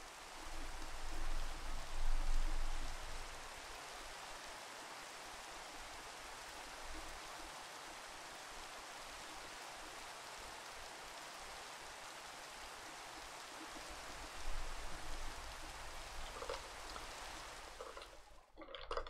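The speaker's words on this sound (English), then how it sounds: "I will switch on the rain and we shall see what the hill looks like after a while." Steady rain falls across a hillside in the Minecraft video game, a constant broadband hiss with soft patter that swells slightly at the start and again near the end, heard alone without any talk.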